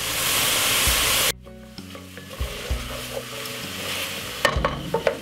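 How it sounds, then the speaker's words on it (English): King prawns fry in a hot pan with garlic, a loud steady sizzle that drops suddenly, then continues more quietly with stirring scrapes and light utensil clicks against the pan. "So now that we're going to cook it in the garlic."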